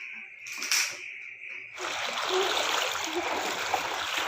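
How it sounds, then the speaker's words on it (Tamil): Floodwater rushing out through a canal in the aftermath of a cyclone, a steady broad roar of flowing water that swells and fills in after a quieter opening with faint background sounds. "இந்த கால்வாயிலேருந்து தண்ணி வந்து ஃபுல்லாக இப்படி வந்து தான் வெளியேறணும்"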